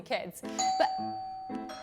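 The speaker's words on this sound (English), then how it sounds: "That is the sound of the doorbell." A two-tone doorbell chime rings out clearly, its notes sustaining and fading while a person speaks briefly over it.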